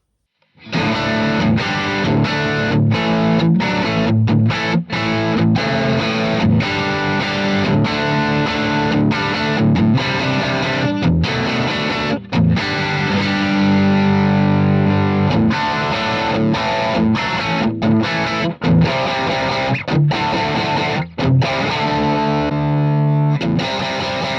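A distorted electric guitar plays continuously through the Blue Guitar AMP1 classic channel with no effects, chunky chords and riffs with brief choppy stops, loud and close.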